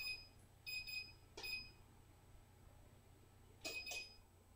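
A kitchen oven timer beeps in short clustered bursts of high electronic tones, faint and close, with quiet gaps between each group and a low hum underneath.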